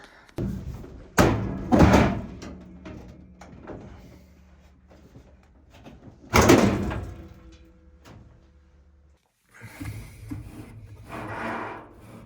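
Metal panel of a GE dryer lifted and pulled free during a blower motor replacement, two loud scraping, clattering bursts separated by quieter rattling and handling noise, then a fainter shuffle at the end, no voices.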